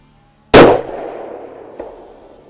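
A rifle bullet from a Savage 110 Tactical strikes a steel target with one sharp, loud metallic clang that rings out and slowly decays, followed by a faint second tick.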